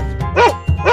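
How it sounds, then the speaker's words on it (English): A dog barks twice in quick succession, loud and close, each bark a sharp harmonic burst with a short gap between them. "Dog."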